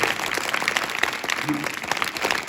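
Audience applause at a school farewell ceremony, steady clapping from a seated crowd lasting the whole moment, with a brief voice and some tonal sound briefly mixed in.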